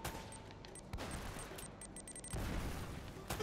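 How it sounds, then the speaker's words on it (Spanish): Rapid gunfire from a firefight in the Uncharted game, with bursts of shots and booming impacts rolling steadily over a dense background, growing louder toward the end. "Ya estás muerto, Anjin. Tres tiros en el pecho, ¿sabes?"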